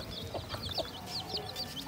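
A mother hen on a farm clucks repeatedly as she searches for her chicks, a steady run of short, close clucks over a soft background.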